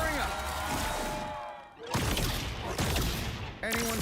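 Fireworks explosions in the Marvel Rivals video game sound as a loud burst of crackling, booming blasts. A sharp cut leads into heavier thumps and bangs over constant game noise.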